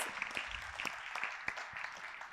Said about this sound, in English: Please give sir. him another round of applause.